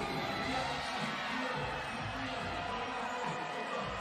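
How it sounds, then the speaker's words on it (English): A basketball arena crowd at a Big3 game in Milwaukee sends up a steady, dense roar of cheering and chatter that holds at a fairly even level throughout, with no single voice standing out. "Crowd starting to really get into it"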